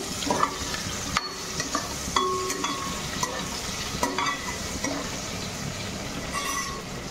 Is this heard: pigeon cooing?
no